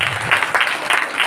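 A church congregation at a Sunday revival service claps hands together, a short burst of crowd applause with a brisk, uneven rhythm, fairly loud and close.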